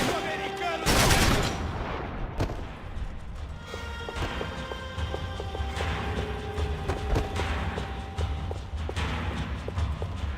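Gunfire in Max Payne 3 plays as dense, loud, rapid shots in a sustained burst, mixed with game effects and a steady background roar.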